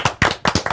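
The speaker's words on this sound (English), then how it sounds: "They didn't even put up the applause sign." A few hands clap in a studio in quick, uneven bursts, close and sharp, sounding like a small sparse audience rather than a full crowd.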